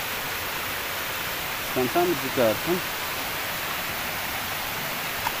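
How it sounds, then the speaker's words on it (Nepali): Rainwater streams down through a wet jungle trail, a steady broad hiss of flowing water that fills the whole stretch, with a brief spoken voice rising over it partway through. "कुना कुनाबाट पानी परेर बगिराखेको छ"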